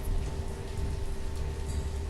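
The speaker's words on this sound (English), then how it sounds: "I'm gonna scroll in while it's raining." Steady rain in the village-building video game Banished, an even hiss that carries on without a break beneath a faint low hum.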